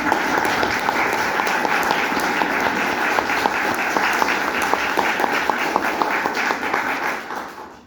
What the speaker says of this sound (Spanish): A ver, una ronda de aplausos.